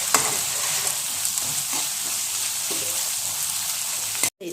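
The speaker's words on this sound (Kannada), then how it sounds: "ಫ್ರೈ ಮಾಡ್ತಾಯಿದ್ದೀನಿ." Salted potatoes and onions fry in a pan, a continuous close sizzle with soft stirring scrapes that cuts off abruptly near the end.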